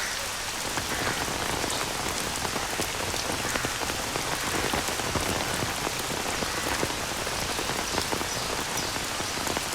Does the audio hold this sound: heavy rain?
yes